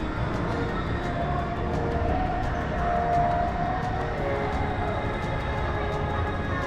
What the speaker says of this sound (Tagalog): At itong train na to, pwede mo rin ito sakyan, iikot to dun sa kabuuan nitong park.